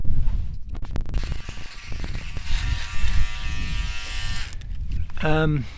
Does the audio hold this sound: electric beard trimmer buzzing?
yes